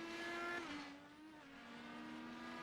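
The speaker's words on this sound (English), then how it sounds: "you can hear Gangler's engine roaring as he's on the exit of turn 1" A high-pitched IndyCar engine roars steadily in Vision Corsa at Mid-Ohio's turn 1, its tone sliding slightly down and then holding as the car pulls away, loud and sustained with no talking.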